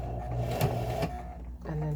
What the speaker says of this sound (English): Make sure to go forwards and backwards to secure your stitch